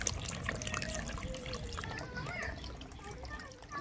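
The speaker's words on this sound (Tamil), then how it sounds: "இனி வந்து அப்படியே ஊற்றிக்கலாம் புளி தண்ணி" Tamarind water poured into a cooking pot of boiling food, giving a close, soft trickling and splashing that runs a few seconds and fades toward the end, with a voice talking over it.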